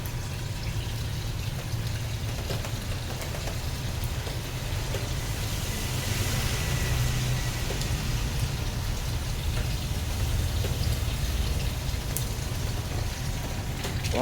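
Steady rain falls on an outdoor koi pond area on a wet morning, a continuous even hiss of drops with no talking.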